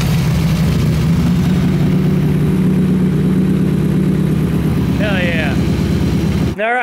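A flat tracker race motorcycle engine runs steadily during heat cycling, a loud, close, continuous drone with a rough pulsing texture, a brief voice rising over it near the end before the sound cuts off.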